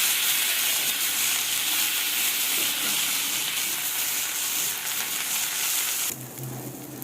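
Chopped vegetables frying in a pan produce a loud, continuous close sizzle and crackle of hot oil that stays steady, then drops suddenly near the end to a quieter hiss.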